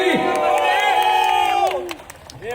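A theatre audience at a Marathi stage show cheers loudly, with tonal whoops and shouts from many voices rising together, then fading into scattered calls.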